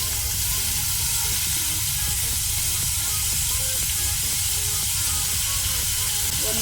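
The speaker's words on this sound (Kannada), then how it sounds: "ಈಗ ನಾವು ಈರುಳ್ಳಿಯನ್ನು ಒಳ್ಳೆ ರೀತಿ ಫ್ರೈ ಮಾಡ್ಕೊಳ್ಳುವ, ಗೋಲ್ಡನ್ ಬ್ರೌನ್ ಕಲರ್ ಬರುವ ತನಕ" Chopped onion frying in oil in a pan over a low flame, a steady close sizzle and hiss running unbroken from start to finish with no talking.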